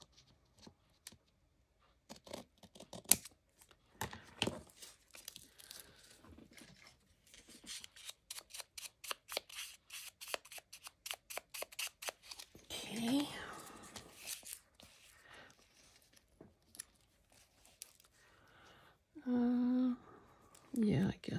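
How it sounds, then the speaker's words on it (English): Scissors snip through a gauze craft bag, a run of quick close cuts and rustles, with faint handling noises and a brief voice near the end. "So let me cut this off where I need to so that I could kind of ink that edge."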